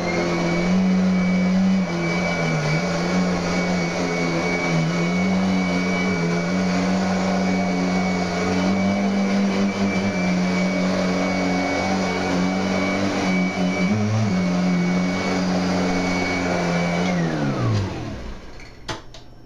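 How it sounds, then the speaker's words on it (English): Vacuum cleaner run over a mattress with the sheet still on, a loud, steady motor whine with slight pitch wavers throughout, then winding down and stopping at the end. "So you want to leave the sheet on when you vacuum it"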